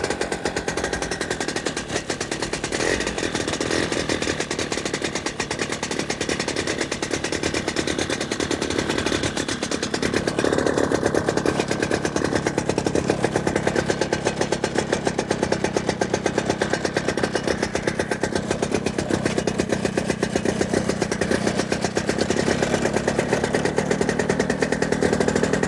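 DEFI 210 paramotor engine running after a choke start, a loud, close, continuous rapid-firing buzz that rises slightly in intensity around ten seconds and holds steady for the rest of the clip.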